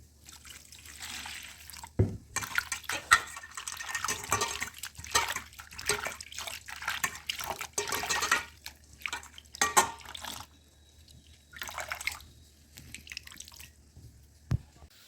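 Salted pumpkin leaves are rinsed under water, irregular splashes and drips, close and moderately loud, with brief pauses between bursts of handling.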